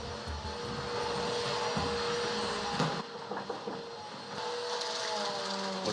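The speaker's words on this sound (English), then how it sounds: "Vacuuming as we walk up." A vacuum cleaner runs nearby with a continuous broadband drone that holds fairly steady throughout, dipping slightly midway, with no voices over it.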